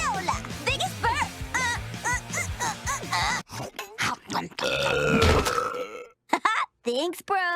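A cartoon female character gives a loud, guttural, rumbling burp amid the animated voices, grunts and effects of a burping contest.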